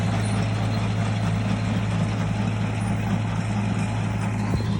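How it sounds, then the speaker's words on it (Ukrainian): A small tractor engine runs steadily nearby in a potato field during harvest, a continuous low droning hum with constant loudness and no talk. "Такий тракторець."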